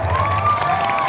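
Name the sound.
audience applause and cheering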